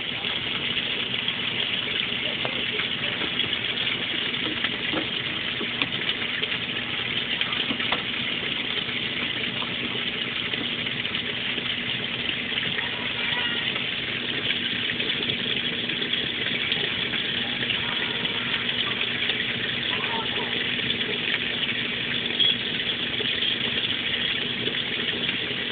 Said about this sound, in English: I have the water level set on large, and it's going to do a super heavy wash.